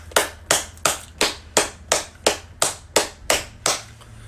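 Audience applause from a crowd at a political talk event, about eleven sharp, evenly spaced claps in a steady rhythm, close and fairly loud with no voices.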